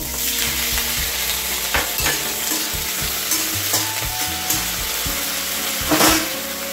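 Finely chopped potatoes fry in mustard oil for a spinach curry, a loud, close and constant sizzle with occasional scraping strokes of a spatula stirring them through the pan.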